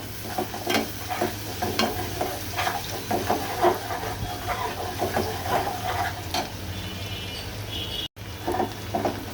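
Chuler dati fish frying on a stove, giving a steady, close sizzle with intermittent stirring scrapes over a low kitchen hum; nobody speaks.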